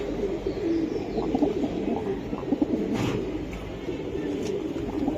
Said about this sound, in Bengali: এটা সরাসরি দেখলে বুঝতে পারবে লাল গিয়ারের সিলভার কবুতর